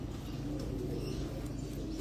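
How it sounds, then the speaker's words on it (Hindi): Pigeon cooing softly from a rooftop pigeon loft, faint low repeated coos over a quiet steady background, no one talking. "ये बहुत बहुत हमारा अच्छा कबूतर है वाकई"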